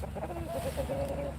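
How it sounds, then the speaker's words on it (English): A rooster pestering hens in a farm yard gives low throaty clucks and short squawking calls, close and fairly loud over a steady background hum. "Go away, rooster. Leave her alone."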